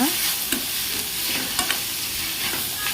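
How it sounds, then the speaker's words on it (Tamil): Onion and lentils for banana flower stir-fry sauté in a hot pan, a bright, even sizzle with a few soft spoon scrapes at irregular moments; nobody talks. "சேர்த்துட்டு நல்லா வதக்கிக்கோங்க"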